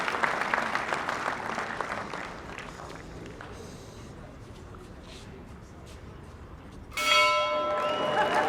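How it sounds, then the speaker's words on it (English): A church tower bell rung at the opening of a jubilee tower, its bright ringing strikes and long humming overtones arriving loud near the end, after a stretch of applause and crowd noise that fades into a quieter murmur. "President Savundla, could you come and ring the bell on behalf of all old Selbornians, please?"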